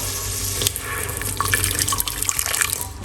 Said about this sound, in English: all I'm gonna do is just tap a little bit of water